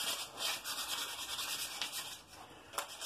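Sandpaper rubs back and forth over a wooden key holder in quick, rhythmic, soft scratchy strokes, close and fairly quiet, with no talking.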